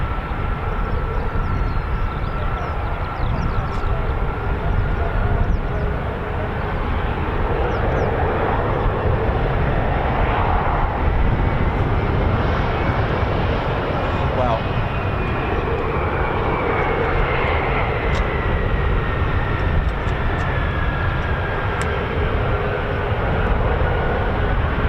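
US Air Force KC-135 tankers taxi at an RAF base, a constant engine drone with a high whine that slowly rises and falls in pitch and little talk.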